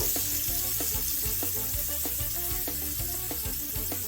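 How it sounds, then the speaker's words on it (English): Salmon sizzles and crackles steadily in a hot frying pan, with soft rhythmic taps and scrapes as it cooks, close by and unbroken. "That sounds way better. I want that nice sizzle."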